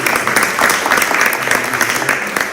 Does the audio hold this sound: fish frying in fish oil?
no